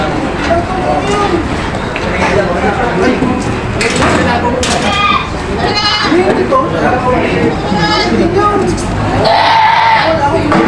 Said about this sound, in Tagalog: Kinakarga na yung mga kambing na nabili dito.